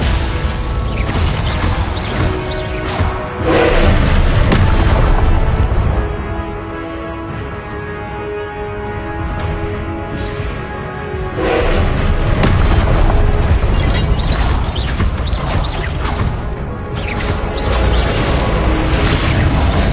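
Spell blasts such as Confringo, Incendio and Glacius go off in Hogwarts Legacy played on PS5. Heavy booms and crashing bursts repeat in waves over a dense, loud game soundscape, with louder clusters near the start and middle.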